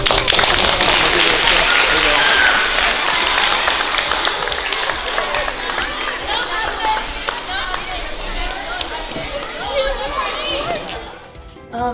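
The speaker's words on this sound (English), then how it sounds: "Hey, let's give him a round of applause" Applause and cheering for a high school teacher, a loud burst of clapping that thins into crowd chatter, excited voices and children talking, with movement and shuffling throughout.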